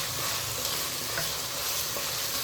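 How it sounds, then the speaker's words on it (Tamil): Mushrooms frying with softened tomatoes in a pan, a steady close sizzle with soft stirring scrapes throughout, no voices. "இப்போ இந்த மஷ்ரூமை நல்லா க்ளீன் பண்ணி வச்ச மஷ்ரூமை இதில் போட்டுக்கலாம்"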